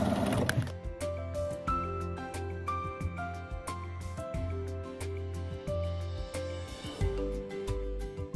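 A sewing machine stitches a couple of fabric seams while they are pressed down hard, giving a steady mechanical whirring run with rhythmic needle pulses. It sounds close and continuous for several seconds with no talk.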